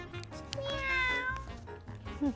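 Cats on a cat island in Fukuoka, Japan, home to more than 200 cats, meow close by in drawn-out rising and falling cries, with a short higher mew at the end over outdoor background sound.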